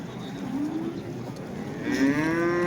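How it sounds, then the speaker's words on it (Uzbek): Cattle at a livestock market in Paxtaobod, Andijan give two drawn-out, fairly close moos, a shorter one early and a louder, longer one at the end, over a steady murmur of market background noise. "mana sigirlarimiz"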